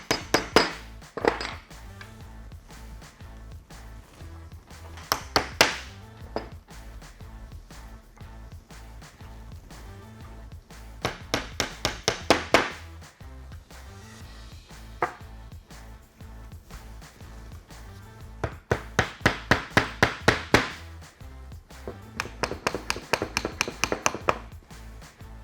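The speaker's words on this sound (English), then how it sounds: "That's what I've got my little hammer for." Clusters of quick, sharp taps from a small hammer on wood during cabinet building, coming in several bursts separated by quieter pauses.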